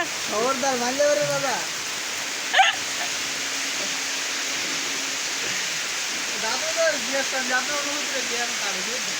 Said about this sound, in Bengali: আর দেখছো বৃষ্টি কত জোরে হচ্ছে